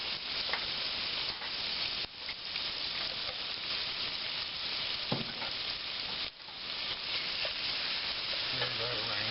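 Sausage and garlic frying in a pot while being stirred, a continuous close sizzle and hiss with scraping stir strokes throughout, fairly soft overall.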